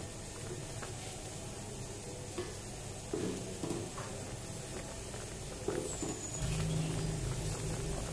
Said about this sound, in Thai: พอใส่เสร็จแล้วก็กวนต่อนะครับ